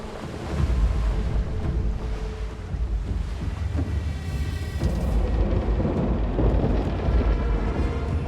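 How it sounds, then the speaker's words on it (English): A thunderstorm with heavy rain in the video game Blade and Soul, set on the northern seas: a dense roar of rain and surf under deep, rolling thunder rumbles that swell and recede. "Where did this rain come from?"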